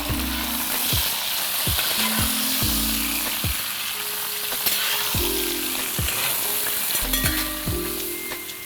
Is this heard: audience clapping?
no